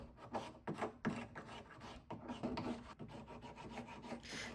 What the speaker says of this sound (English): I scrape off any glue residue left from that black tape